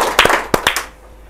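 Hands clap a few times in a short, uneven burst, close and sharp, then fade into a quiet room.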